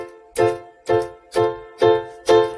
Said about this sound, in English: You can see the keyboard is very loud and clear.